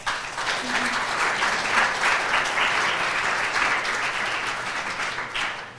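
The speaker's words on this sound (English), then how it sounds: "Can you give them a round of applause?" A crowd applauds steadily and fairly loudly, the clapping holding even for several seconds before tapering off at the end.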